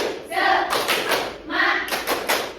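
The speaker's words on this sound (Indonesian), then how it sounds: "Tepuk semangat" A school class performs the tepuk semangat chant, clapping together in quick rhythmic bursts with short pauses between groups while the children's voices chant along.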